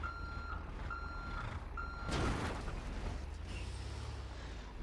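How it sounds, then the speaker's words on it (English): In a truck-driving video game, a truck reverses into a trailer, giving three evenly spaced reversing beeps over a low engine idle, followed by a creaking, clunking coupling noise, with no talking. "we're gonna drive into the trailer like so"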